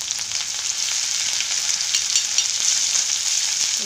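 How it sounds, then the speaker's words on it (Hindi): Garlic-ginger paste sizzles in hot oil with crackling cumin seeds in a pan while making a desi-style baingan bharta, a steady, close, bright frying hiss with faint stirring underneath, no talking. "जीरा चटकने लग जाए, इसमें डालेंगे हम लहसुन अदरक का पेस्ट।"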